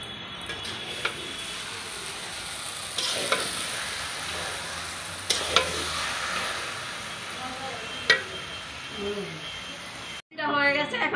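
Mixed vegetables with ginger and jaggery stirred in a hot pan, a steady sizzle and hiss with scraping strokes, a brief clatter near the end.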